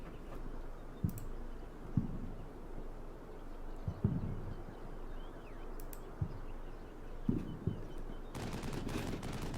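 Gunfire and missile strikes in an insurgent ambush in the war game Combat Mission Shock Force 2, scattered sharp distant shots and bursts over a steady windy battlefield rumble, ending in a louder noisy blast.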